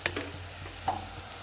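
Onions frying in a pan as ginger-garlic paste is stirred in, with a faint, low sizzle, a few soft clicks and scrapes of stirring, and a brief louder clatter near the middle.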